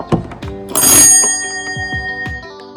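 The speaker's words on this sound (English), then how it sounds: "This is our cool doorbell." A doorbell at a Florida mobile-home beach cottage rings with a cluster of bright metallic chime strikes and a quick jingle, tones ringing on and decaying, close and fairly loud, no talk.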